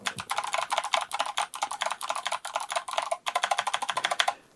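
A loud retro mechanical keyboard types fast, dense bursts of crisp clacking keystrokes close to the mic. A brief pause in the middle breaks the run before another rapid flurry.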